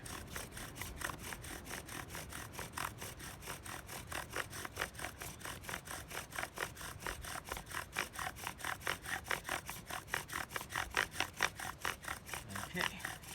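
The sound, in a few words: bow drill wooden spindle vibrating while burning in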